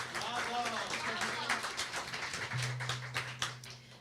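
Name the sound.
audience applause for a youth chorus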